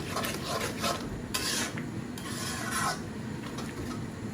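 A spoon scrapes and stirs Sylheti shatkora with kochu shak in a pot, giving repeated rough rasping strokes over a faint background simmer.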